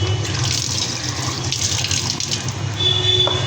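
Tap water runs steadily into a sink as ginger is rinsed under it, a close, continuous splashing rush with slight shifts in flow toward the end.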